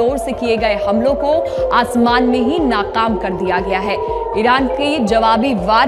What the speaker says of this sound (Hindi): इसमें आपको सायरन की आवाज भी सुनाई दे रही है।